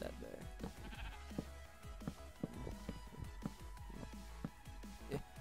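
Video game sheep bleat several times in a creative-mode harbor build, short plaintive calls repeating over a busy background of game sounds, with a player talking throughout.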